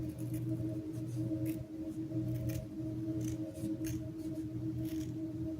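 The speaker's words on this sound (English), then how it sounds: "I'm just gonna cut out a little heart shape" Scissors snip out a small heart from folded paper, with repeated crisp, quiet cuts in an uneven rhythm over a steady low hum, close up.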